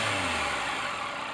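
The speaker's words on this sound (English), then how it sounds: "If I rev this up a bit" A 2015 Yamaha FZ-09 motorcycle engine with about 22,000 miles revs briefly up close, a loud, dense engine roar with no talk.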